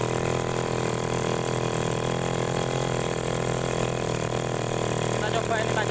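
Agricultural sprayer engine idling steadily and failing to rev up when throttled, a continuous loud mechanical drone with no rise in pitch throughout.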